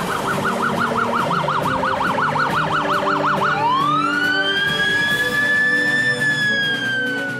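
An ambulance siren wails loud and close, first in a fast rapid warble, then switching to a long rising sweep that holds a steady high tone, with no voices.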